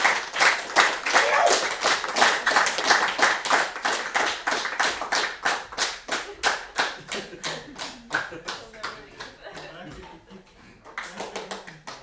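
Audience at a game developers conference clapping steadily for several seconds, fading and briefly picking up again near the end, with some speech mixed in.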